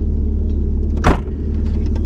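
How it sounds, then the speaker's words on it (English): A Lykan supercar prototype produces a steady, loud low rumble from nearby. A single brief thump lands midway through the drive. "So we're gonna rip back down in the Lykan and then switch over for the Fenrir"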